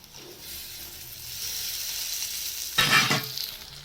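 Chopped tomatoes for a prawn curry in coconut milk sizzle and fry in a pan, a soft steady hiss that swells gradually, then a brief louder burst of crackling near the end.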